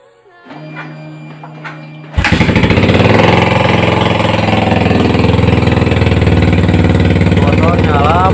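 A Yamaha Vixion motorcycle with a fuel pump and ignition fault starts after a quiet, faintly humming moment, then settles into a loud, steady idle close by while someone talks over it.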